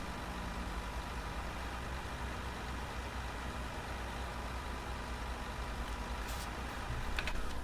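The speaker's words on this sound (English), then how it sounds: "Switch that engine off" Truck engine idling in the Farming Simulator 19 video game, a steady droning rumble held at an even level with a few brief clicks near the end, close and continuous with no voices.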